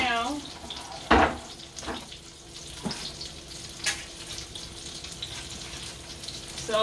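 Water from a kitchen sink tap runs steadily over a pan being rinsed while tacos are prepared. It comes with a few sharp clanks and knocks, and one brief louder splash.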